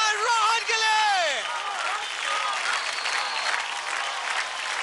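Loud studio-audience applause and cheering for a child dancer on the DID L'il Masters show, with shrill whoops and voices swooping over the clapping early on before it settles into steady applause.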